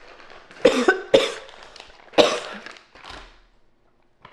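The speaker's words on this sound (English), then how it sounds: "the reason why I'm coughing like that" Several harsh coughs come close together in an irregular series, then fade into quiet.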